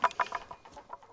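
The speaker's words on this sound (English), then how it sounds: "man, almost crushed a chicken." A chicken out at a pig pasture clucks right after nearly being crushed by a gate, giving a quick run of close, agitated clucks that trail off into quieter squawks.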